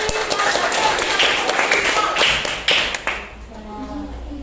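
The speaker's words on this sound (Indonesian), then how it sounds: "tepuk tangan dulu untuk Yandi." A group of participants in a school coaching session claps for a classmate, a short loud burst of clapping close by that fades as a voice starts talking.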